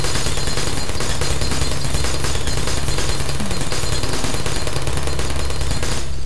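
Sentry turrets in Portal firing nonstop, a loud, dense rattle of automatic gunfire that fills the whole stretch without pause before cutting off abruptly at the very end.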